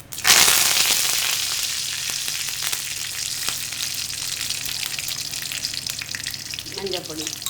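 Mustard seeds hit hot oil for a Srirangam-style diet puli kuzhambu, bursting into a loud sudden sizzle that settles into steady crackling and popping, close up, with a faint clatter near the end.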